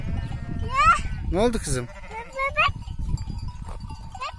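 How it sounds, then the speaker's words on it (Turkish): Young lambs bleating near a child playing with the flock in spring, several high wavering bleats from different animals heard close by, mixed with a voice speaking over them. "Evet, onlar kuzular biraz"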